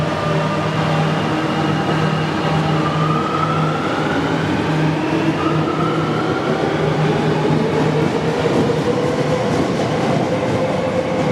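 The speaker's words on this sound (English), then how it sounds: "I'm now on the underground getting a train back to the centre of the city" A Buenos Aires underground subway train rumbles steadily from inside the carriage, with a loud continuous roar, rising and falling motor whine and faint rail clatter throughout.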